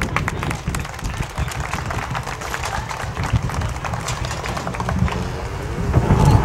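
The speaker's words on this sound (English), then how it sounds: "Let's give these young people a round of applause." Crowd applause at a youth cattle show for young exhibitors and their calves, a steady dense clapping wash filling the space and swelling slightly toward the end.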